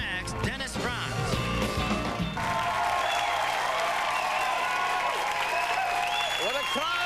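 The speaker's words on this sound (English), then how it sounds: "What a crowd, what a crowd." A talk-show studio audience bursts into applause and cheering, dense loud clapping with whoops that swells and holds steady, as a host's voice begins speaking over it.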